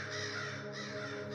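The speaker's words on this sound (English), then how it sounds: "setting his ravens a-squawking from the skeleton trees overhead" Ravens squawking from bare, skeletal trees overhead, a dense continuous raucous cawing chorus of several birds, steady and fairly close with no voices.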